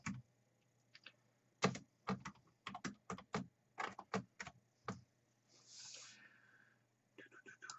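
Someone types on a UK keyboard connected to a Raspberry Pi 4, giving close, quiet clusters of irregular clicky keystrokes with a brief soft rustle partway through.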